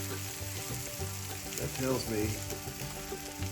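Corned beef and potatoes sizzle and fry in a pan, a steady soft crackling hiss while a person speaks briefly over it.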